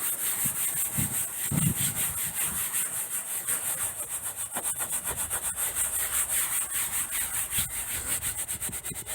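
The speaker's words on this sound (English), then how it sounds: "grab a nice boar's hair or horsehair brush and get everything nice and cleaned up" A boar's hair or horsehair brush scrubbing an oxidized boat hull: a continuous, close rasping sound in repeated back-and-forth strokes, heard alone with no talking.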